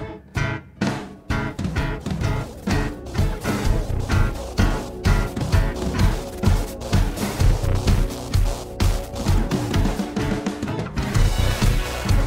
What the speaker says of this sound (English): It applies a sort of a smearing blend effect